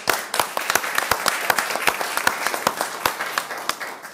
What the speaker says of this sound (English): We're supposed to clap.